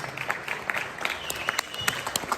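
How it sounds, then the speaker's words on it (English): A modest audience at a debate event in Atlantic City claps steadily, individual hand claps audible, moderately loud and unaccompanied by speech. "Let's give a round of applause for both of these guys."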